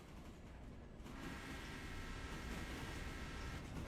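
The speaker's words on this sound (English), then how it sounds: "I hear the train rolling." A steady rolling rumble of a train on rails in the Railroader game, with a log train and diesel locomotive, growing slightly louder and fuller partway through and continuing without a break.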